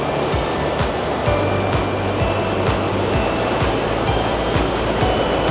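Ocean waves rolling in at Palm Beach in Itoshima, Japan, a loud, continuous roar of surf with steady wash and no one speaking.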